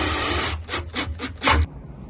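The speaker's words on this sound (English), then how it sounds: "finishing it off with my drill" A drill snugs a bracket down onto bolts during a waste can installation, giving several short whirring bursts with brief pauses, close and fairly loud, then stopping.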